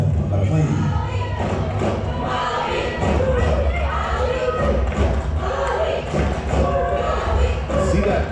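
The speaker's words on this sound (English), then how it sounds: "See that Maui crowd when their team is down, that's when the cheers get the loudest" A Maui crowd at a Little League Intermediate 50/70 World Series elimination game against New Jersey keeps up a loud, steady roar of cheering with thumps and voices mixed in throughout.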